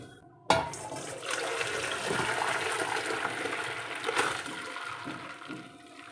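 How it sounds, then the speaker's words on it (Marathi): Boiled noodles for vegetable hakka noodles are tipped into a colander over a vessel. Water rushes and splashes through steadily for several seconds after a sudden start, close and continuous with no voices. "यामध्ये आपण आता या नूडल्स काढून घेणार आहोत आणि आणि यातलं पूर्णपणे पाणी हे काढून घेणार आहोत"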